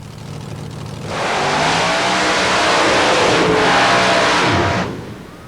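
A radical paddle-tire mud racing truck, filmed at a 1990 event in Bayou George, Florida, roars off the line and accelerates down the track. Its engine sound is loud, sustained and broadband, swells for about four seconds, then fades as it passes.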